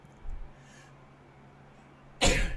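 A single close, loud sneeze bursts out near the end after a quiet stretch with a faint hum, short and forceful with a breathy tail.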